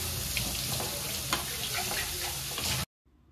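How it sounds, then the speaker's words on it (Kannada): Onions frying with turmeric in a pan make a loud, continuous close-up sizzle with light crackles, cutting off abruptly near the end to near silence. "ಅರಿಶಿನ ಹಾಕ್ಕೊಂಡು ಚೆನ್ನಾಗಿ ಇದನ್ನು ಫ್ರೈ ಮಾಡ್ಕೊಳ್ಳಿ."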